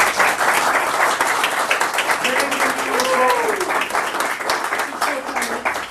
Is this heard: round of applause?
yes